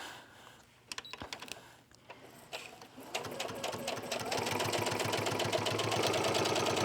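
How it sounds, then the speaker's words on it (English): A domestic sewing machine stitches fabric with the presser foot lowered, starting with a few clicks and handling noises, then settling into a fast, steady, close mechanical whir of stitching with no talk. "I'm just going to start sewing."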